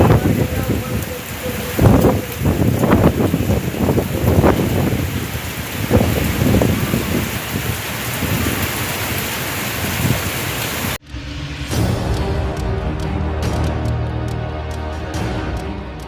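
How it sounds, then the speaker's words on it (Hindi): A storm in Indore with strong wind and hail, heard as loud, dense rain and wind hammering the surface throughout. Sharp impacts come in the first half, then the sound cuts to a different rushing, roaring storm scene. "इंदौर में आंधी तूफान के साथ कई इलाकों में ओले गिरे।"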